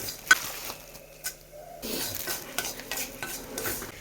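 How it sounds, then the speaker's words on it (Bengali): Cashews frying with vermicelli in a pan, soft sizzling with spoon scrapes and stirring taps, a few sharp clinks early, then quieter then denser stirring. "এর মধ্যে কয়েকটা কাজু বাদাম দিয়ে দিচ্ছি একবারে ভেজে নেবো"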